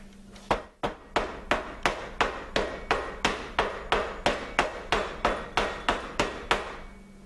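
Cold process soap being pounded down into its mold, a steady series of about fourteen sharp, even knocks at a regular rhythm, close and loud with no talking.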